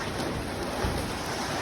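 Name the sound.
heavy rain falling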